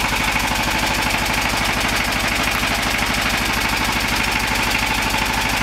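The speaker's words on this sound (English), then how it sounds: "So we've managed to take an S1100 horizontal diesel and put it in an environment where we've managed to get control of the sound." A horizontal S1100 diesel engine runs a generator in a sound-controlled enclosure. It makes a steady, loud, rapid knocking thrum that stays even and continuous throughout.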